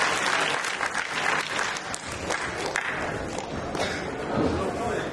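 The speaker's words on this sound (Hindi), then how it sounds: "जोरदार तालियां हो जाए तमाम डोनरों के लिए।" Loud, continuous applause from an audience at a trust scholarship program event honoring donors, steady dense clapping for about five seconds with a few thuds.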